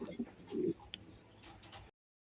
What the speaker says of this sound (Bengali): এটা হচ্ছে আরেক পেয়ার কবুতর, এটাও একটা রেসার কবুতর